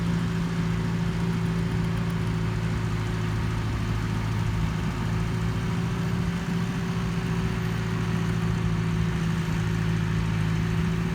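A Landini 5-115H tractor engine hums steadily at a constant low pitch throughout during laser land leveling, moderately distant with no talking.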